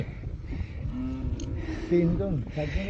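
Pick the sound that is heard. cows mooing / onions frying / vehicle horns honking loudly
cows mooing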